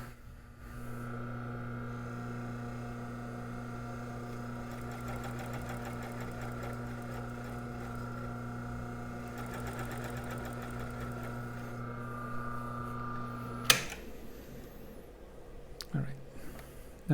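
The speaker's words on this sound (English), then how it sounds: "Motor is on, and I'm going to make a few stitches under motor power." A US StitchLine SL718-2 chain stitch sewing machine runs under motor power with a steady electric hum and rapid mechanical chatter, then stops abruptly, leaving a few faint clunks.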